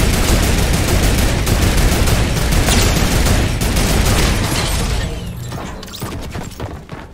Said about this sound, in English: Hey, who's shooting?